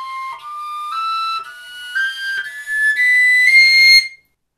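A Slovak koncovka, a fingerless overtone flute, plays a rising series of clear whistling tones in short stepped notes, near and loud, climbing higher before cutting off abruptly, with no voices.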